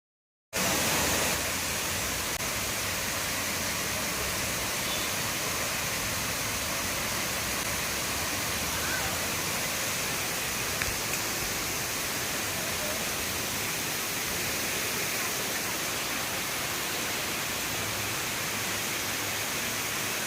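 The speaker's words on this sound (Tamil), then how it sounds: "தலனார் வாட்டர் ஃபால்ஸ் பார்க்கக்கூடிய ஒரு சந்தர்ப்பமும் எங்களுக்கு கிடைச்சது" A heavy waterfall in full flow, the Thalanar falls near Valparai, thunders in a dense, unbroken roar of rushing water, loud and steady from start to finish.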